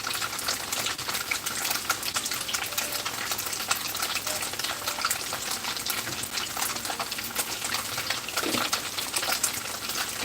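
Two blocks of tofu fry to a crisp in a pan, a continuous crackling sizzle with dense spattering pops at moderate loudness, steady throughout without talk.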